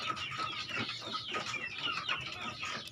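Burmese hens cluck repeatedly in short, overlapping bursts, with a busy chorus of fowl chatter filling the background.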